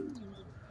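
A single soft, low coo from a racing pigeon during training, close and brief, fading out quickly.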